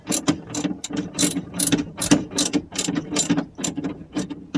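A ratchet wrench tightens bolts on the steering assembly of a Pengor Penguin, giving rapid, close, repeated clicking bursts in an uneven rhythm with short pauses between strokes.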